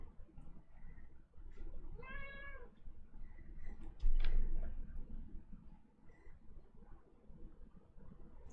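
A house cat gives one clear, drawn-out meow indoors late at night over a steady background hum, followed a moment later by a louder knock.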